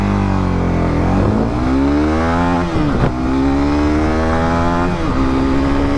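A 2024 Honda CB300R motorcycle accelerating hard from first gear, pitch climbing steeply through the rev range, with brief dips as gears change, loud and close.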